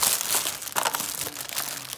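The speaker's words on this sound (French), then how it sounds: "Comme vous pouvez constater, Poussin galère autant que moi à ouvrir un paquet." Packaging crinkles and crackles as it is pulled open by hand, a steady close-up rustle of wrapping for about two seconds with slight tearing bursts.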